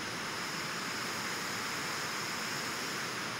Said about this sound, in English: I'm going to play some pink noise out of it